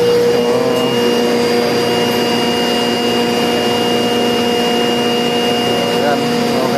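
An ammonia refrigerant water chiller compressor runs steadily, a loud continuous mechanical hum with sustained tonal whine, with a voice talking faintly over it.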